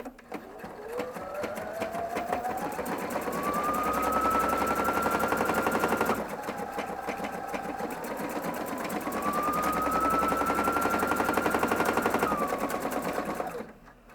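A Pfaff Expression 715 sewing machine stitches a buttonhole, its motor whine rising and falling in pitch across two long continuous runs of fast, rattling stitching, close and loud, with a brief pause between them.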